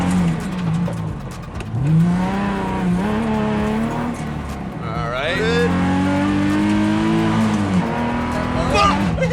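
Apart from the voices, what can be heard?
revived racecars racing and revving on track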